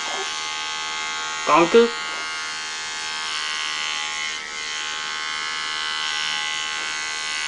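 Electric clippers buzz steadily while a cat is being shaved, a constant high whine throughout, with a short burst of speech early on.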